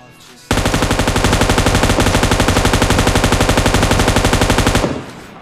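An M249 machine gun fires one long sustained burst in a video game, loud rapid even shots that stop abruptly, with no voices over it.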